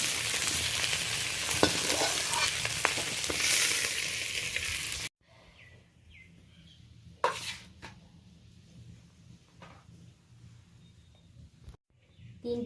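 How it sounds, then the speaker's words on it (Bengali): Crabs frying in a pan for a spiced crab dish, a steady dense sizzle close up for several seconds before cutting out, then quieter crackles and a few sharp clinks of stirring. "এবার কাঁকড়াগুলো ভেজে নেব।"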